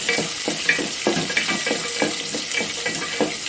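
Small onions and peeled garlic sautéing in an oiled pan for a shallot curry, a close constant sizzle broken by regular stirring scrapes roughly every half second.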